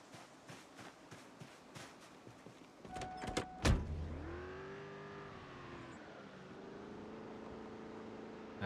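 A car engine in the zombie survival game Project Zomboid, heard alone after a few sharp knocks: the motor rises in pitch, holds a steady drone, then drops and settles into a lower idle hum.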